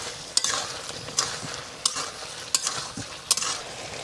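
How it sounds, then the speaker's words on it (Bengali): Fried egg stirred into a soybean curry in a pan, with a spoon scraping in sharp, repeated strokes about every second over a soft, steady sizzle. "এবারে আমি ডিম ভাজাটা দিয়ে দিচ্ছি"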